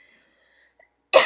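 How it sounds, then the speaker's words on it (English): A single short, loud cough bursts out near the end after near silence, close to the microphone. "Still coughing."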